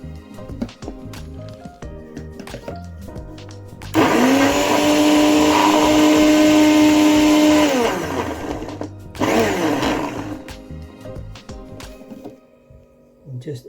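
A blender pulses hot sauce ingredients in two loud, close bursts: a long whirring run whose motor pitch rises and settles, then a shorter pulse, with quieter kitchen sounds before and after.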